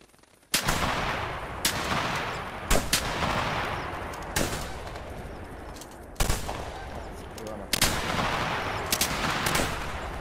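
Gunshots while duck hunting in the video game The Hunter Classic: six or seven loud, sharp reports spaced a second or two apart, each with a short decaying tail, over faint background.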